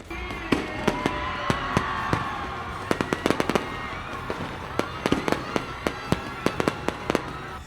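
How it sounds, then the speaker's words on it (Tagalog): Rapid cracks and bangs from a New Year fireworks display in Davao del Norte ring out in irregular bursts, clustering into fast volleys, with faint crowd noise underneath. "Mihaya gayod ang kalangitan sa makahingangha nga fireworks display"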